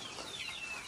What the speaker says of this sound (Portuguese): Ah, essa galinha ali, ó,